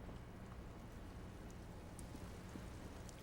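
Steady, soft rain falls in Disco Elysium as a constant hiss with no voices or other distinct sounds.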